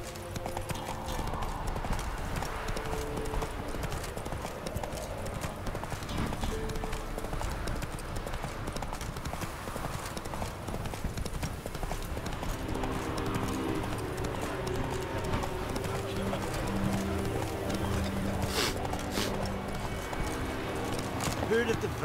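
Horse galloping in The Witcher 3, a fast continuous clip-clop of hooves on the ground, loud and close throughout, with game ambience and birds behind and a voice speaking over it.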